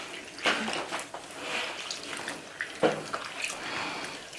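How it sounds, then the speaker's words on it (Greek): Water poured into a bowl of crusted sourdough starter to soften it, a steady wet splashing and trickling with a couple of sharper splashes, fairly close and with no talking. "Κοιτάξτε, προσθέτει νερό, για να μαλακώσει το προζύμι"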